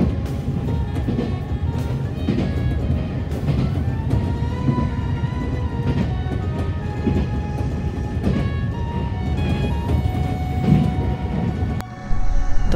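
A Nankai Koya Line 6300-series train pulls into a station, heard from on board as a steady rumble of wheels and running gear with faint squeals and clanks, ending in a sudden louder thud.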